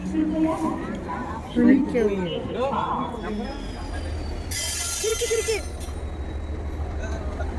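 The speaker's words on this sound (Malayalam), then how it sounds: "അപ്പോൾ ഉണ്ട് അവിടെ വന്ദേ ഭാരത് കിടക്കണു." Vande Bharat train standing at a railway station in Goa, a steady low rumble and station noise with a brief burst of hiss in the middle, heard under people talking.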